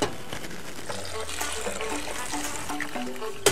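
Pineapple juice pours into a pot of dissolved jelly mixture on the stove, making a steady liquid splash and trickle for several seconds with a few light clinks.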